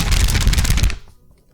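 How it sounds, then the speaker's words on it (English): Paper review notes shuffled close by in a brisk, dense rustling burst lasting under a second, then cutting off into near silence. "That's the sound of my review notes."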